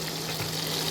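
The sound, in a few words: shrimp frying in a pan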